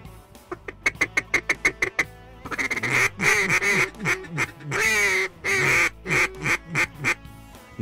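Ducks quack loudly during a waterfowl hunt. A rapid run of sharp, evenly spaced calls gives way to longer, raspy, drawn-out quacks in uneven bursts, close to the listener and with no talk over them.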